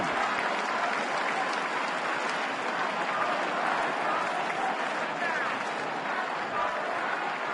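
Dense, sustained crowd roar and applause from a packed Red Sox opening day crowd at Fenway Park, a constant wash of noise with a broadcaster's voice faintly under it.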